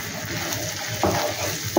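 Salt and chili powder get stirred into a hot frying pan for shahi paneer, with a steady close sizzle and two brief scraping strokes of a spoon against the pan.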